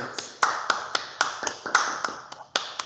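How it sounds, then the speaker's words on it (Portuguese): A small group at a Brazilian literary soirée claps sparsely for the team, about a dozen separate sharp hand claps in an uneven rhythm, close and moderately loud, with no talking. "É uma salva de palmas para essa equipe e para todo mundo que está aí"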